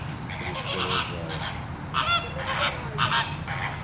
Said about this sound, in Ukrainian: Крякають, як звичайні качки.